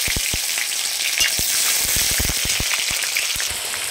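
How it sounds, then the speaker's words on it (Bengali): Bay leaf and chopped onion hitting hot oil, a loud dense crackling sizzle with a stream of sharp pops throughout, close and continuous, with no voices. "গরম তেলে আমি তেজপাতা তারপর দিয়ে দিচ্ছি পেঁয়াজ কুচি"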